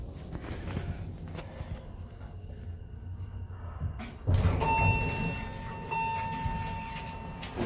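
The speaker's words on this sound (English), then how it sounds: "Door close works." A Montgomery Vector hydraulic elevator at a department store in a mall shuts its door with a sliding rumble and a solid thump, followed by a steady whine and hum inside the cab.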